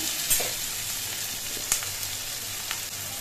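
Garlic and ground spices sizzling in a pan as they are stirred, a steady close frying hiss with a few sharp spatula clinks against the pan.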